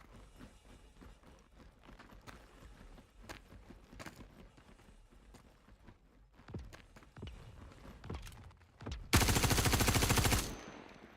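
Burst of rapid automatic gunfire from a shooter video game set in a settlement, a loud dense stream of shots near the end after scattered softer impacts and footsteps.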